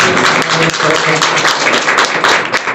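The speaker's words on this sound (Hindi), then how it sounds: "एक बार जोरदार ताली।" An audience at a farewell and welcome ceremony of a college Sanskrit department breaks into loud, sustained applause, dense overlapping claps filling the room from start to finish.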